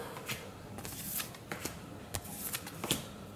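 Board game cards from La Vallée des rois are handled during an unboxing, giving quiet, close, intermittent flicks and slides of card stock with no talk.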